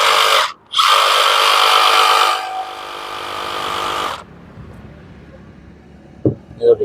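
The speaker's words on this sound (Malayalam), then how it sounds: "ഇത് നമ്മുടെ റെസിപ്രോക്കേറ്റിങ്സോ നമ്മുടെ PVC പൈപ്പ് ഇതുപോലുള്ള സാധനങ്ങളൊക്കെ കട്ട് ചെയ്യാനൊക്കെ ആയിട്ട് നമുക്ക് ഉപയോഗിക്കുന്ന റെസിപ്രോക്കേറ്റിങ്സോ ആണ്" A battery-powered Makita cordless reciprocating saw cuts through PVC pipe in a loud, steady burst lasting a few seconds. It stops abruptly, leaving a quiet background with a few faint knocks.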